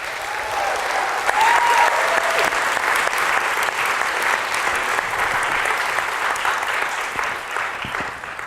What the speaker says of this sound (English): can we have one more round of applause for all our speakers here?